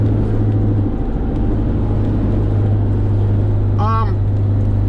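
2011 Mercedes Sprinter 3.0L diesel van accelerating on the road after a low turbo boost repair, a loud, steady engine drone heard from the cabin, with a brief rising whine near the end.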